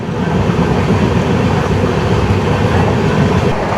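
Sapthagiri Express train running at speed toward Tirupati, heard from inside the carriage: a steady, loud rumble with continuous rattling of the coach, unbroken throughout.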